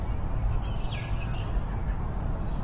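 A sparrow gives a few faint, brief chirps outdoors, thin and high against a steady background hiss.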